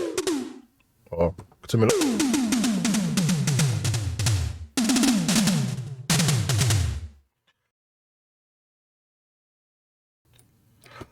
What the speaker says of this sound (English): So we're going to concentrate on the tom sound.